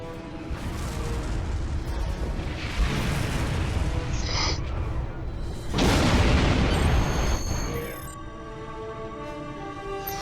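Torpedo launch and explosion in the space combat game Star Trek Online: loud sustained booming rumbles with a big blast swelling near the middle, followed by ringing electronic tones, all fairly close and dense.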